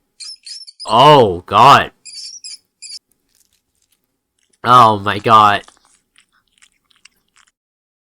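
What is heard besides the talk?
mouse squeaking while a cat eats it, video game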